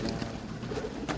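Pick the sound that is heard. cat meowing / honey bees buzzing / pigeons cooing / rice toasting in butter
pigeons cooing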